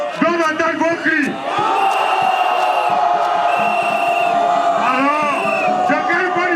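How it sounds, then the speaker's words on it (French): Large crowd at an RHDP political rally shouting, whooping and cheering, loud and dense, with yells and battle-cry bursts rising over a sustained roar. "Même ceux qui n'entendent pas doivent entendre vos cris."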